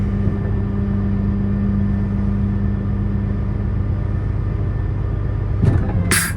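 Kenworth W990 truck with an MX13 engine running at raised RPM to drive the PTO lifting the dump box, a steady low diesel rumble holding throughout with a brief clatter near the end.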